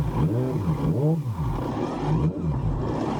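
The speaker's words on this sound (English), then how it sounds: "As I reverse back on the track here" A real formula race car reversing on a circuit, its engine droning close by with rising and falling revs that sweep up and down over a few seconds.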